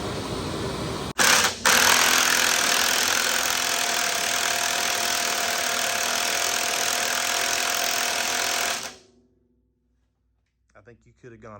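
Impact wrench driving on the new steering wheel of a 1949 Ford 8N tractor, a loud continuous rattling hammer burst of about eight seconds that cuts off abruptly, followed by brief talking.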